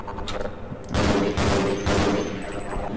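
Rifle fire in the video game Half-Life 2, heard as a few loud rapid bursts of automatic shots close up, with no talking.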